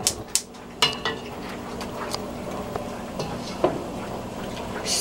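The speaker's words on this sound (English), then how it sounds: "Stirring constantly." Peach jam stirred in a pot, with a few sharp clinks of a spoon against the rim and scraping, then softer stirring over a steady low hum.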